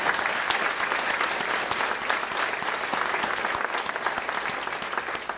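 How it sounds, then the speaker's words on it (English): A chamber of commerce lunch audience gives award winners a loud, continuous round of applause, dense and even from start to finish. "let's give all of our winners one more big round of applause"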